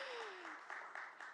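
At a preservation awards ceremony, a faint, sparse smattering of claps for elected officials rises briefly behind a trailing voice.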